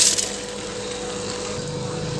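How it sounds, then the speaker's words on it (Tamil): Soaked rice and toor dal are tipped into a cooking pot for a Hyderabadi dish. A steady, close watery gush and slosh runs throughout, with a faint low hum underneath and no talking. "இப்போ நான் ஊற வச்சு எடுத்த அரிசியும் துவரம்பருப்பையும் உள்ளே சேர்த்துட்டேன்"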